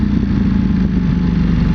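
A 2021 Ducati Panigale V4S engine burbles on deceleration, a low, steady, rumbling idle heard close and fairly loud for a short moment with no talking.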